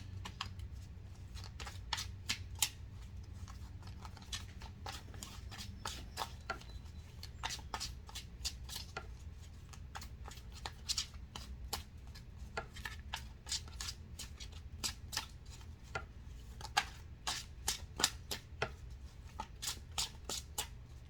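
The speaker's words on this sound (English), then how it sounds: "Trying to get a good shuffle on, y'all." Cards are riffled and shuffled over and over, a steady run of quick papery snaps and flutters, close and fairly quiet, with no talking.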